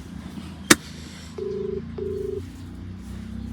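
A phone being dialed for a prank call: a sharp click, then two clear electronic keypad tones in quick succession, close and moderately loud over a quiet room hum, with no talking.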